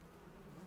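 Flies and mosquitoes inside a house make a faint, continuous low buzz that drones steadily without pauses, with no talking.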